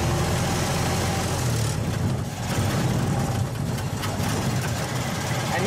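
Ford Model T engine running while the driver shifts from low into high gear, a steady close mechanical drone with slight changes in tone and no pauses.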